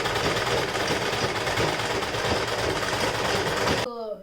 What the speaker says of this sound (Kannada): ಸೊ ನಾನು ಮಾತ್ರ ಜಿಗ್ಜಾಗ್ ಮತ್ತು ನಾರ್ಮಲ್ ಸ್ಟಿಚಿಂಗ್ ಮಾತ್ರ ಯೂಸ್ ಮಾಡ್ತೀನಿ.